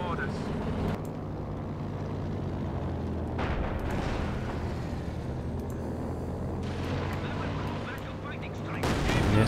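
Katyusha rocket barrage explosions in Company of Heroes 2, a dense, continuous roar of rumbling blasts and crackling impacts that persists through the whole stretch, with a heavier surge near the end.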